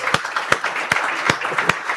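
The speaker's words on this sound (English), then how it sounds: "please keep the claps going" An audience applauds at a live session, with sharp, evenly spaced claps over a softer bed of scattered hand-clapping that stays steady throughout.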